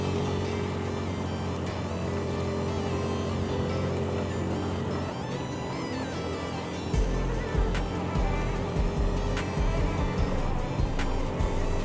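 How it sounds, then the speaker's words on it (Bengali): Motorbike engine pulled to higher revs as the throttle opens on an uphill stretch of the winding Alikadam to Thanchi road in Bangladesh, a steady close drone that swells louder and rougher partway through, with no talking. "আবার আপহিল, তাই একটু থ্রটল ঘুরাই নিচ্ছি।"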